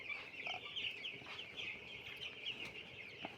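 A crowd of young chicken chicks peeps continuously in high, shrill chirps, close and busy, with no talking.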